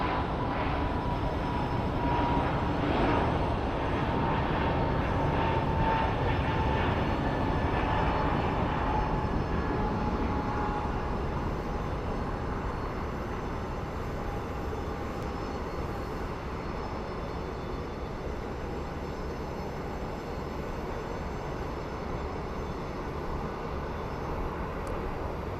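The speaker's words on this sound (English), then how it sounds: "our Frontier flight to Denver is departing" A Frontier airliner takes off from Phoenix Sky Harbor, its jet engines roaring loudly at first and then settling into a sustained, gradually fading rumble and whine as it climbs away.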